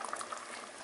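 Stingray fish curry simmers in a pot, giving a faint, steady bubbling with soft liquid pops, heard briefly and alone.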